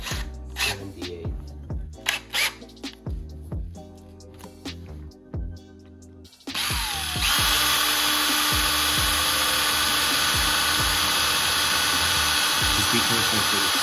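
A roughly 3 mm drill bit bores into a throne room model, with choppy clicks and handling noises first, then a steady high-pitched drill whine running continuously to the end.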